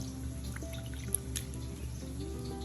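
Water squeezed by hand out of salted bitter gourds (karaila) for a lamb dish, dripping and trickling into a container in a few quiet, close drops over a low steady background hum.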